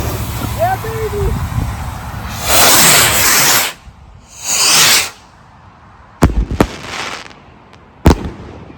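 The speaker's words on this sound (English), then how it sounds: "Those are some nice rockets for compliant." Willow firework rockets launch with whooshing rushes and then burst into sharp cracks and pops outdoors at night, loud and fairly close, with a voice exclaiming over them.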